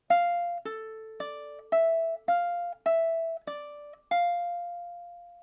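Ukulele picking a riff, eight plucked notes in an even rhythm, each ringing briefly before the next, the final note left to sustain; close, clean and moderately quiet with no voices.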